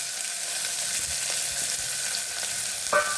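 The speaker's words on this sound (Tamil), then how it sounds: "பெரிய சைஸ் வெங்காயம் ரெண்டு இந்த மாதிரி பொடியாக கட் பண்ணி எடுத்து வச்சுருக்கேன் அதை இப்போது எண்ணெயில் சேர்த்துக்கலாம்" Two large finely chopped onions sautéing in oil for a country chicken curry; an even, continuous close sizzle with faint scrapes and a short clink near the end, no voices.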